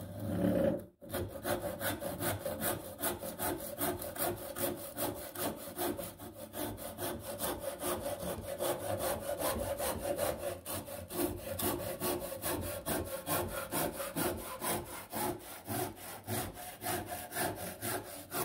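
A cheap clearance hand saw fitted with a 3D-printed handle cutting wood: steady, rapid back-and-forth rasping strokes, close and loud, running continuously after a brief pause near the start.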